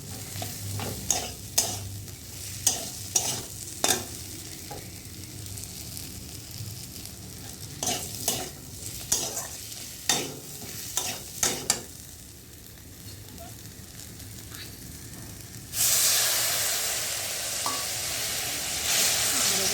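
Spices and eggs are sautéed in a pan for an egg and potato kosha: a regular series of sharp spatula knocks and scrapes over a soft sizzle, then a sudden louder hissing surge near the end.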